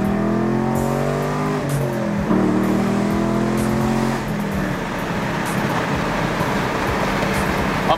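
A 500 rwhp Vengeance Racing Chevrolet Camaro 1LE with the NPP exhaust accelerates hard down a straightaway, its engine note climbing steadily through the gears with quick shifts, loud and close throughout.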